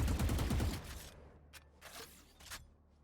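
Rapid automatic rifle fire rattles out in a first-person shooter match, a loud burst at the start fading into scattered shots and clicks.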